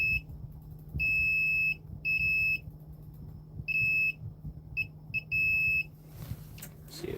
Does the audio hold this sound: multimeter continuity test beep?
yes